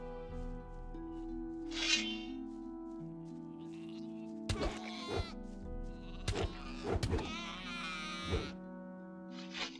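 Sheep bleat in the Gothic 2 video game, a few drawn-out wavering cries over a steady tonal background, mixed with dull thuds and groaning noises in the middle section.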